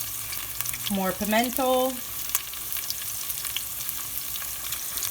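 Green onion and thyme frying in seasoned oil for a Jamaican oxtail, a steady close sizzle running throughout while someone speaks briefly near the start.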